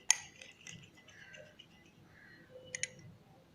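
A spoon clinks sharply against a bowl a few times while mashed banana is stirred with full cream yogurt. The scraping is soft, with brief metallic taps, and the clinks are quiet and close.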